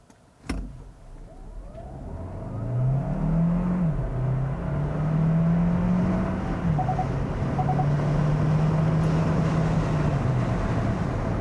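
2022 Hyundai Tucson Hybrid SUV accelerating hard from 0 to 60 mph on a slight downhill, a steady engine drone rising in pitch with one gear change, under constant road and wind noise, no talk.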